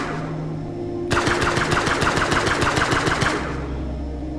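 Guns fire in the space game Breathedge: a rapid, evenly spaced burst of mechanical shots lasting about two seconds, loud and close, with steady ambient hum before and after and no talking.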